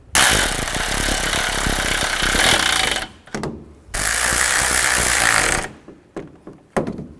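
Radiator bolts on a 2011-15 Kia Sorento are driven tight with a tool, giving two long, loud, steady mechanical bursts followed by several shorter, choppy bursts and brief gaps, close up and with no talking.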